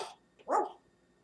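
An African grey parrot imitates a dog with a single short, harsh bark-like call, close and fairly loud, preceded by a brief vocal note and followed by quiet.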